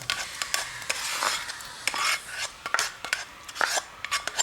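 Onions, garlic and peanuts being stirred into a pot for Filipino kare kare stew, raspy scraping strokes and light clinks of a spoon on metal in an irregular rhythm over a faint sizzle, close and without talking.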